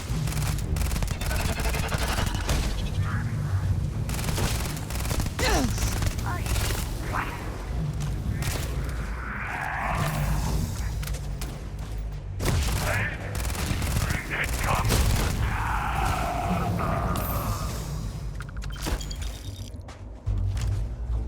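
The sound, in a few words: Vortex weapon firing in Starfield video game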